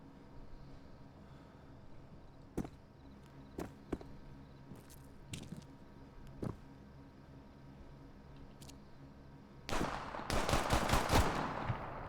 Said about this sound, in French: Au sud, il y a un mec qui tire et je le vois pas.